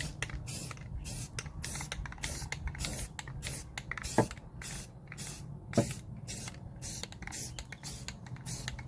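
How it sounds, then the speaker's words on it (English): A spray paint can hisses in rapid short bursts, a regular run of quick sprays with brief gaps between them, close by. "a good reason to use spray paint like that"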